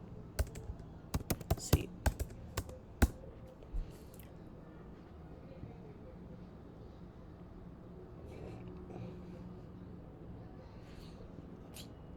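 Keys clack in a short burst of sharp, irregular taps on a computer keyboard during a coding session, then stop, leaving quiet room tone with faint murmuring.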